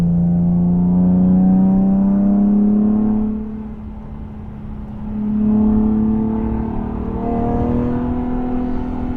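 A Nissan 370Z Nismo with a Fast Intentions exhaust pulls hard at around 5,000 rpm in third gear, a loud, steady droning exhaust tone that dips briefly and then climbs again, heard from inside the car.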